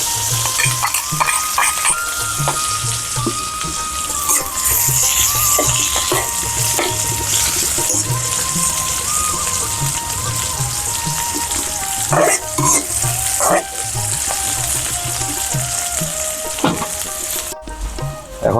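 Chillies and onion dropped together into very hot oil in a village kitchen sizzle loudly and continuously, with repeated scraping stirs of a utensil against the pan close by.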